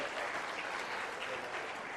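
A large crowd at a papal visit reception at Rosehill Garden, Sydney, claps in a continuous, even wash of applause for about two seconds.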